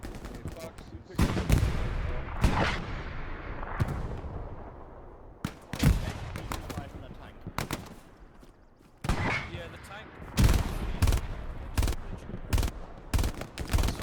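MG5 machine gun fire in the WWII shooter Hell Let Loose, heard as loud bursts of automatic fire, and single shots, separated by quieter gaps, with a voice talking now and then between them.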